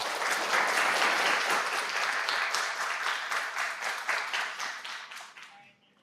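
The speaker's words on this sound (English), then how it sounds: "Let's give another round of applause to Dr. Berends, please" An audience at a university distinguished lecture applauds the speaker, with loud, dense clapping from a full room that holds steady and then fades out over the last couple of seconds.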